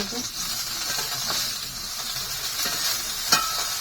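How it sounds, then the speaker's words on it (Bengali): Fish frying in a pan gives a steady, fairly loud sizzle and hiss that runs throughout, with a brief sharp clink near the end and no talking. "মাছগুলো কিন্তু এখন ভেজে নিচ্ছি"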